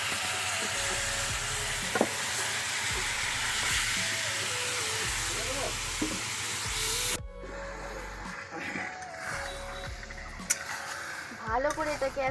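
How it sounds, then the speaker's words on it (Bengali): Tamarind frying in hot mustard oil with panch phoron five-spice for a sweet tamarind pickle, a steady close sizzle with stirring scrapes that drops abruptly to a quieter crackle midway, with speech over it. "ভালো করে এটাকে এখন ভেজে নিতে হবে"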